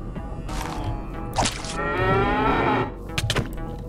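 A sheep bleats in Minecraft, a long wavering call that holds for over a second, with a few short thumps and a brief knock around it.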